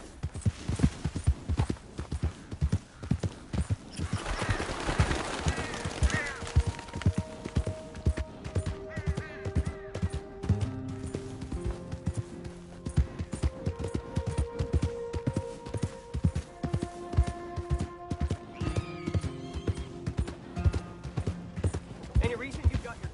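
Rhythmic hooves clip-clopping at a steady pace in Red Dead Redemption, with a horse whinnying and game music tones layered over it; voices come and go.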